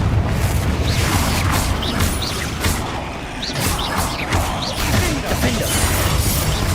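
A Confringo spell explosion in Hogwarts Legacy erupts as a loud, continuous rumble of blasts and crashing debris that fills the whole clip, with several sharp impacts and whooshes layered over the deep roar.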